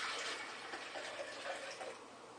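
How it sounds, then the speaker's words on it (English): Water being poured into a container for making homemade paper briquettes, a steady close splashing fill with broadband hiss lasting the whole moment, no talking. "Alright, the first thing I'm going to do is add the water."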